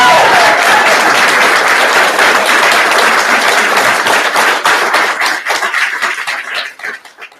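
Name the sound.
applause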